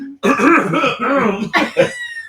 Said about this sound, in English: I'm really clearing my throat too, by the way.